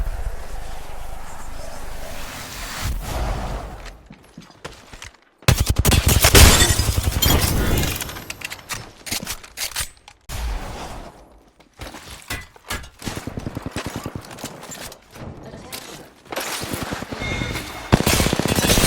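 Gunfire in the video game Apex Legends comes in sharp bursts and rapid volleys that break off into pauses, with breaking and shattering crashes mixed in. The sound is loud and close and stays busy throughout, and a voice speaks briefly among the shots.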